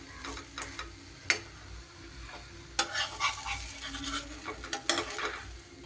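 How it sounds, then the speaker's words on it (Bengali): An onion stalk paratha fries in a pan over medium heat, a soft low sizzle under intermittent scrapes and taps of a spatula as it is turned, close and fairly quiet with no voices. "এইভাবে উল্টে দিলাম, একটু এপিট ওপিট করে এইভাবে মাঝারি আঁচে ভেজে নিলেই কিন্তু হয়ে যাবে"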